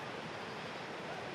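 The Bakhtiari river in rural Iran rushes past during a nomad crossing, a loud, steady wash of churning water with no break and no voices.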